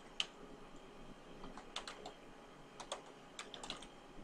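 Quiet, irregular keystrokes on a computer keyboard, a few clicks at a time in short uneven bursts, close and soft with no talking.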